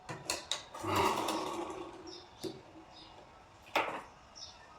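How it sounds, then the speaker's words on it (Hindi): A sewing machine stitches a princess-cut blouse in short bursts, a brief whirring run followed by scattered clicks and handling noises, fairly quiet and close. "अब देखो यहाँ पे ऐसे लगाती जाऊंगी सिलाई"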